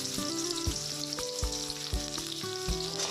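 Chopped onion and green chillies sizzle in hot oil in a wok, stirred with a spatula; a steady bright hiss runs throughout, with background music and its beats playing over it.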